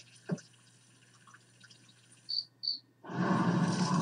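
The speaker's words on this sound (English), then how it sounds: "Bye-bye to the cricket." A cricket gives two short, high chirps in a quiet cartoon scene, followed by a sudden burst of louder noise.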